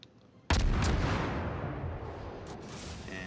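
Heavy warship guns fire in a naval combat video game, a sudden loud boom followed by a long rumbling decay with a couple of fainter shots echoing afterward.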